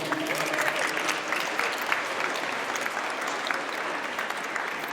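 Warm applause from an audience at a Pennsylvania afterschool advocacy press event at the State Capitol, welcoming speaker Ralph Rodriguez onstage; steady, dense clapping runs throughout at an even level with no talk.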